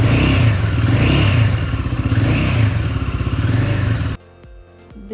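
Royal Enfield Guerrilla 450 single-cylinder engine revving while held back by a fault that stops throttle above 4000 rpm, a loud close rhythmic thumping idle rising and falling in repeated surges before cutting off abruptly near the end.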